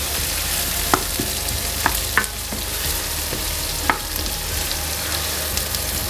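Medium sliced onions sautéing in a pan for Sri Lankan devilled soya meat, a loud, steady sizzle punctuated by a few sharp taps of a utensil stirring.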